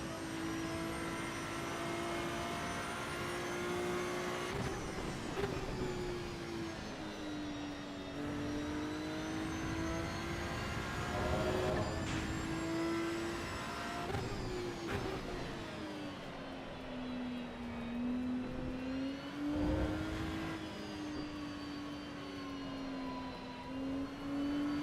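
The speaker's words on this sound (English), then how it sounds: "But what I will say is the car sounds, love it." Racing-car engine in the sim racer Assetto Corsa EVO, version 0.6, droning steadily and loud on its own, its pitch climbing and dropping with the revs and broken by sharp gear-shift jolts every few seconds.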